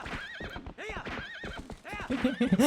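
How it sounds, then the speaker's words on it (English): Horse in The Legend of Zelda: Twilight Princess whinnies with rising and falling cries over steady clip-clop hooves at a gallop, loud and close, with more neighs stacking up near the end. "she hears fucking Link smacking the shit out of the horse to go faster"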